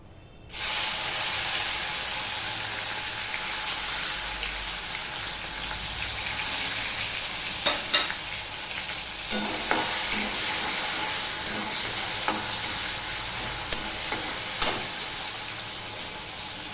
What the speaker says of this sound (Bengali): এবার তেলের মধ্যে দিয়ে দিলাম এই টমেটো কুচিগুলো